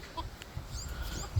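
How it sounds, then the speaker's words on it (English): An old one-eyed Frizzle rooster on a backyard chicken farm gives a few soft, low clucks, close by and fairly quiet over faint background noise. "this is my one-eyed Frizzle rooster"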